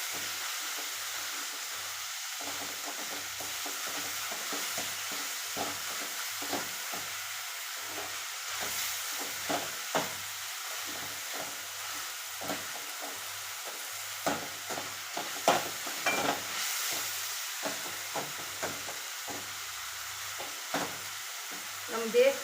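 Food sizzles and fries steadily in a pan during home cooking, a continuous crackling hiss broken by frequent small pops and stirring scrapes, close and alone without talk.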